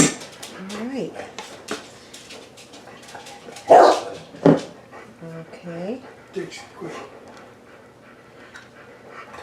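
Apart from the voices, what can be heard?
dog barking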